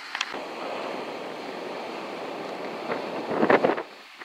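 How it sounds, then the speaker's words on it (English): Waves break at the entry of a small harbor anchorage on Molokai, heard as a continuous outdoor wash of surf with wind noise, swelling into a louder rush of breaking water near the end. "The waves breaking right in front of the entry"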